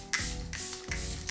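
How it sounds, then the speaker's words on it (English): Makeup setting spray misted onto a face, several soft close hissing puffs separated by short pauses over a faint background hum, with no voices. "I'm gonna take a little bit more of that setting spray to moisten things up"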